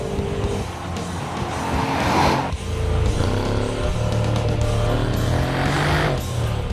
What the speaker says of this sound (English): At park throttles you can really feel and hear that V8 rumble.